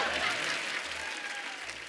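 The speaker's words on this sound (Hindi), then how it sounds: "जोरदार तालियां" Loud, dense applause from a studio audience on The Kapil Sharma Show, steady clapping through the whole short moment with a voice faintly beneath it.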